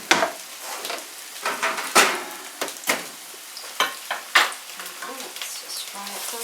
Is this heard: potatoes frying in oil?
yes